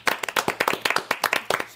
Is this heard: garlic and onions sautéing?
no